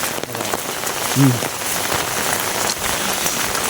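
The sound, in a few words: rain falling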